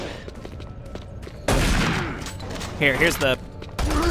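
SMG fire from the Doom 3 BFG shooter game, delivered as a loud burst of rapid shots followed by shorter volleys, heard over brief quiet talk and low game ambience.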